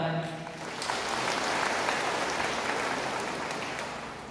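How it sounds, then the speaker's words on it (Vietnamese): A parish congregation applauds as a new pastor is welcomed at church, a broad, dense wash of clapping swelling after a brief start and holding steady, loud and close throughout. "Giờ đây cộng đồng chúng con xin chúc mừng cha Hoàng Hạnh bằng một tràng pháo tay."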